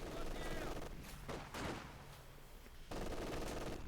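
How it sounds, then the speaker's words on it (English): Mortar shelling and small-arms fire in the strategy game Company of Heroes 2, with scattered blasts and rattling shots at low level under a commentator's continuous talk. "got the Carphone machine being bombarded here by Luvnest's mortar"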